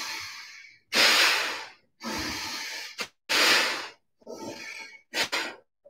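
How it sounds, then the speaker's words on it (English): Forceful breathing exercise during a yoga session: several deep, rushing breaths in and out through the nose, close and breathy, with short pauses between them and no talking. "we're actively breathing in through the nose"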